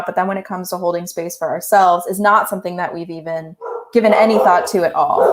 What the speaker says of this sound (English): sorry about the dog barking.